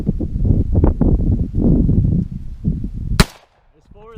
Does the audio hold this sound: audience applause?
no